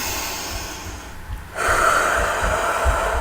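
A group of people at a mental health talk draw a deep breath together and let it out, a soft, broad rush of breathing that swells partway through the clip, with no talking.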